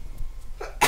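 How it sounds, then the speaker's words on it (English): A single sharp sneeze bursts out near the end after a quiet intake of breath, close to the microphone in an indoor room. "oh, hold on, I sneeze."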